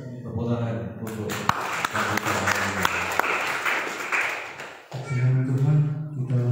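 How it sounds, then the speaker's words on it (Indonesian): Mourners applaud during a funeral service for a victim of the Semeru eruption, a burst of clapping under a speaking voice, then fading as music or singing begins. "Tepuk tangan untuk"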